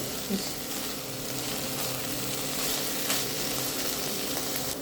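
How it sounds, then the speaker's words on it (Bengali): Kalai greens, cooked with taki fish, fry in a pan with a continuous loud hiss and sizzle, steady and close for the whole stretch. "দেখুন এই যে আমার শাক ভাজি হয়ে গিয়েছে"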